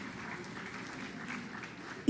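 Faint, steady applause from an audience welcoming the president of Peru at a formal ceremony, a continuous even patter heard from a distance.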